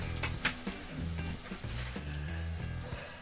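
Onions being sautéed in a pan for stuffed fried fish (pinaputok na bisugo), with a wooden ladle stirring them. A steady, close sizzle runs throughout, broken by short scrapes and knocks.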